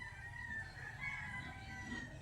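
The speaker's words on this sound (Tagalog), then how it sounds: "May pabo." A farm bird calls with a steady, raspy gobbling tone over low background rumble, moderately close and unbroken for the whole stretch, with no talk.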